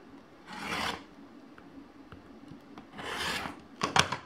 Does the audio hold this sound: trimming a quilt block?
yes